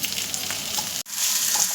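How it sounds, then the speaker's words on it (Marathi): Ingredients for Kolhapuri chicken tambda rassa sauté on an iron tawa, giving a loud, close sizzle with stirring scrapes and a short break midway. "आता हे सगळं छानपैकी असं परतून घ्यायचं आहे"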